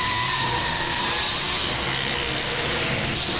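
A car racing along during a police chase gives a steady, fairly loud engine roar and road rush with broadband noise throughout, no voices.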